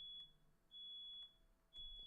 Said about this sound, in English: Fire alarm is going off still.